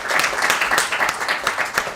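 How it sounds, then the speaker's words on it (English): Applause from a Kent arts conference audience, a fairly loud, close burst of many hands clapping with slightly uneven pulses, continuing for about two seconds. "Can we have another round of applause for Rebecca and Josie?"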